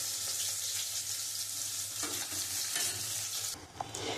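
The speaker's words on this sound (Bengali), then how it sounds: "কড়াইয়ের তেলটা গরম হয়ে গেছে, এবার আমি মাছটা দিয়ে দেবো" Fish frying in hot oil in a wok for a papaya and potato fish curry makes a steady, fairly faint sizzle with scraping and stirring, ending with a short clatter.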